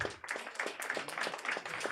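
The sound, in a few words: applause for a stand-up comedian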